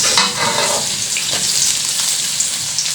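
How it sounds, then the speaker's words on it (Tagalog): Garlic and onions fry in a pan with a loud, continuous, close sizzle and faint stirring scrapes throughout. "hintayin naman natin mag golden brown ang sibuyas at saka bawang"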